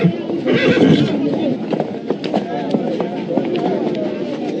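A horse whinnies over the clattering clip-clop of hooves on a Casablanca street during a parade, with a busy crowd hubbub underneath.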